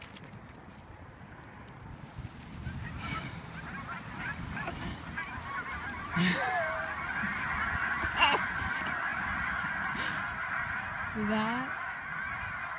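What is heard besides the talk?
geese honking as a dog chases them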